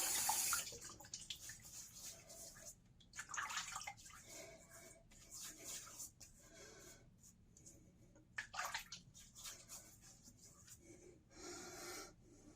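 Tap water splashes and runs at a sink as a man rinses his face during a wet shave with a Pearl open-comb safety razor, in soft irregular bursts at close range.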